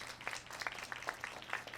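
Scattered clapping from an audience at a candlelight vigil and awards evening, faint and distant, a few separate claps spread over a short stretch.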